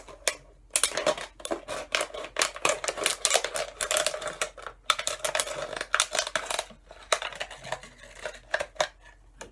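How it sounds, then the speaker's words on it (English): Scissors cut through the end of a plastic pop bottle in a rapid series of sharp, close snips and crunches with brief pauses between them. "take your scissors and you're going to cut the end"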